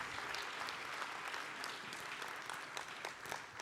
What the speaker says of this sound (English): Can we please give them a round of applause for the support that they gave us?